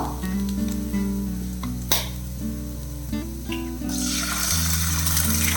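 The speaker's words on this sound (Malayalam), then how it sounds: "ഇതിൻ്റെ കൂടെ നമുക്ക് മുട്ട ചേർത്ത് കൊടുക്കാം." Eggs land in a pan of sizzling spring onion over lowered flame; a loud hissing swell rises late, under steady background music.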